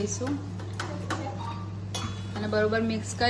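Pasta stirred in a pan, with a spoon scraping and clinking against the metal in uneven strokes under a steady hum, while someone talks over the stirring.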